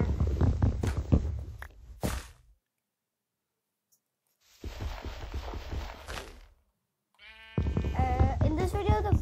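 Sheep bleating in the Minecraft video game, a few short blocky bleats separated by silent gaps, with some stepping and rumbling sounds among them and no talk.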